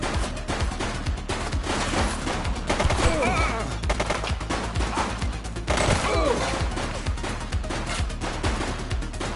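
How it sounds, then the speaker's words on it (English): Rapid gunfire erupts during a shootout with a suspect, loud overlapping shots and bursts crackling in dense clusters with brief lulls, sustained throughout with no talking over it. "He's shooting!"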